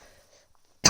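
One short, sharp cough from a person with a pollen allergy bursts out loud and close at the very end, after near silence with a faint hiss.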